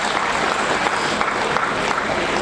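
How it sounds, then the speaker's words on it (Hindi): A school annual day audience applauds loudly and continuously, a thick, uniform roar of many clapping hands close to the recording point with no pause. "एक बार अपने लिए जोरदार तालियां बजा लीजिए।"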